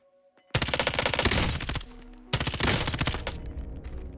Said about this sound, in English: it looks like I'm getting sniped at